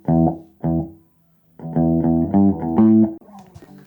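An 80s-style synthesized bass line plays alone, close and punchy: two short stabs, a pause, then a run of rhythmic plucked notes stepping through a riff before a softer tail.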